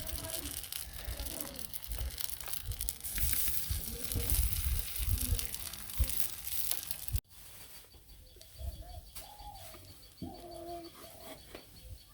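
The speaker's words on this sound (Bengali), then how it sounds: "এখন চাপড়ি ভাজবো" Chapri flatbread fries on a tawa in a Bangladeshi village kitchen, with a loud, close hissing sizzle that drops away midway, leaving soft pigeon-like cooing and faint voices.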